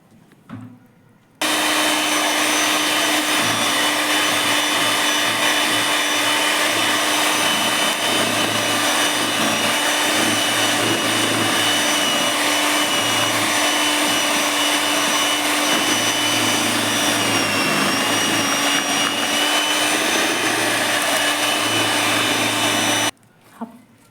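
An electric beater whirs steadily while mixing flour for a homemade cream cake, giving a loud, even motor drone with a steady hum. It starts abruptly, runs unbroken for about twenty seconds, then cuts off, with no talking.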